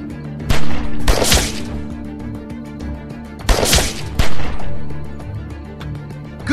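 Loud gunfire bursts from The Walking Dead Telltale video game, 400 Days DLC: two clusters of rapid shots, each a pair of sharp volleys, over a steady low background hum.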